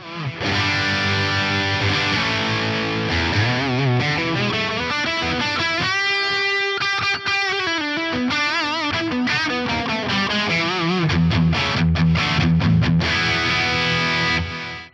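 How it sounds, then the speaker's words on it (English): An electric guitar played through an FM9 modeler with an ultra high quality reverb and a panning delay, distorted chords and ringing notes sustained continuously and loudly with lush, spreading echoes. "I've added a high quality, not just high quality, an ultra high quality reverb and this lovely panning delay on here"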